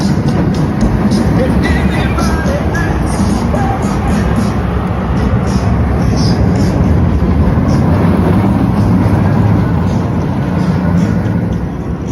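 A steady, loud rumble of a roller coaster train on a test run rolling along track fills the whole stretch, continuous and unbroken, with no voices.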